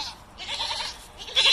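Goats bleat at feeding time in a farm pen, with a couple of wavering cries at moderate distance over faint background noise.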